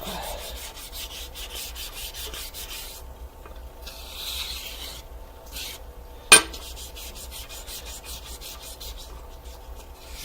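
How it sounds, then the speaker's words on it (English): Wood being sanded by hand, soft repeated rubbing strokes close up, pausing briefly midway and ending with a single sharp knock. "hand sanding is where it's at."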